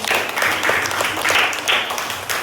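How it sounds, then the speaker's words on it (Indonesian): Applause from a class of fifth-grade (5A) students rings out in a classroom, a steady burst of many hands clapping that lasts throughout at moderate loudness with no pause. "Tepuk tangan untuk kalian semua."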